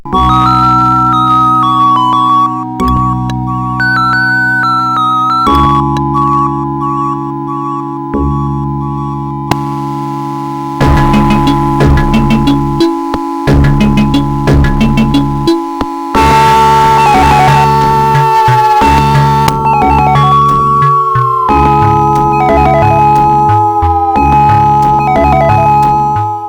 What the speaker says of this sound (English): Now here's the best sounding Sega Genesis, the Model 1 VA3.